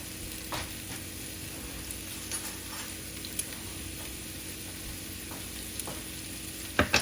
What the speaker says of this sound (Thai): ผัดเทียมให้หอมนะ จริงๆอะต้องใส่เนยแต่ว่าวันนี้ไม่ใส่ ใส่น้ำมันมะกอกก็อร่อยเหมือนกัน